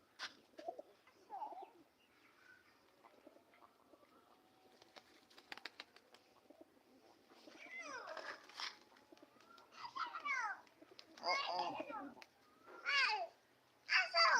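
Agitated pigeon cooing inside a pigeon loft: soft, low coos at first, then a run of louder, rapid, throaty calls in bursts toward the end, close by.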